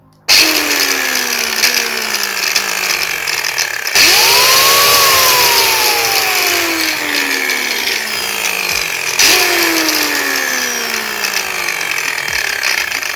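A repaired angle grinder is switched on three times, each run whining up to speed with a loud high motor note and then winding down as the pitch falls.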